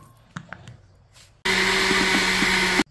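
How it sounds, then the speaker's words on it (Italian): A kitchen blender whirs basil and mint leaves for a zucchini parmigiana, starting abruptly after a few quiet handling clicks and running loud and steady with a pulsing hum before cutting off. "A questo punto non ci rimane che frullare il tutto."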